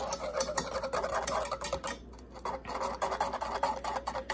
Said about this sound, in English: you want to begin stirring immediately